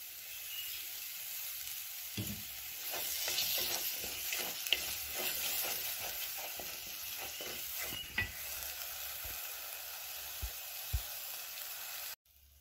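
Pumpkin halva with sugar just added is stirred in a hot pan, a quiet continuous sizzle under soft, repeated scraping strokes of the spoon, with an occasional louder knock.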